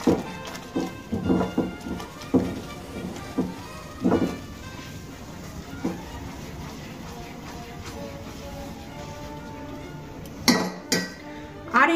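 A spoon clinks and scrapes against a pan while ground cumin and coriander powder are stirred together for a Bengali-style rohu fish curry, with irregular close metallic taps and scrapes, sometimes in quick bursts and sometimes after pauses.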